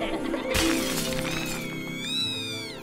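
Glass blocks shatter with a sudden bright crash in the LEGO Harry Potter game, followed by tinkling debris and high whistling tones, over quiet game background.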